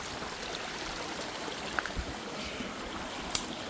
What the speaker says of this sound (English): it's forcing water into this pipe and filling the pipe.